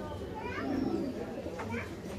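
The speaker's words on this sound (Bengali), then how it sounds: "এগুলো হইতেছে আপাতত থরের কবুতর" Pigeons coo in a home loft, soft low throaty calls close by, mixed with a person talking.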